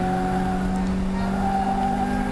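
A Toyota Levin race car on a circuit during a trackside race, a steady loud engine drone with sustained tonal whine and a faint tire squeal, no voices.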